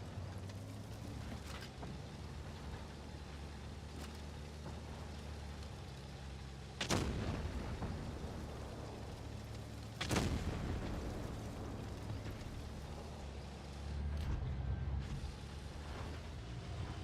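Tank cannon fire in World of Tanks Blitz, two sharp booming shots several seconds apart over a steady low engine rumble, with mechanical clanks between.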